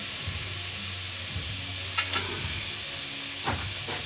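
Onions browning in a pan while liver is prepared for lunch give a steady, close sizzle and hiss, with a few brief stirring scrapes on top and no talk.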